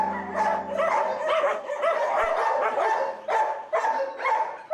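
A dog barks repeatedly at close range at a K9 training camp, a steady run of loud, sharp barks and yips with short gaps between them.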